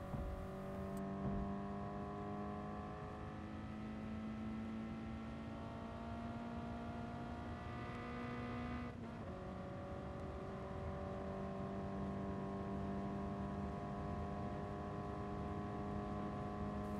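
Race car engine in Gran Turismo Sport on the Tokyo Expressway South Inner Loop, a steady droning note that rises gradually in pitch as it accelerates out of a corner, dips sharply at a gear change, then climbs again.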